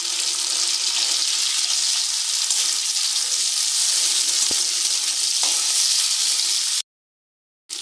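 Tomatoes and green chilies frying with lightly browned onions in a pan, a loud steady sizzle with a faint clink of stirring, the sound cutting out briefly near the end.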